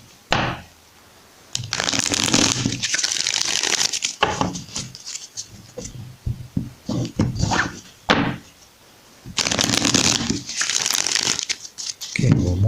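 Tarot cards shuffled by hand in repeated bursts of crisp riffling and flapping, close and fairly loud, with short pauses between rounds and no talking.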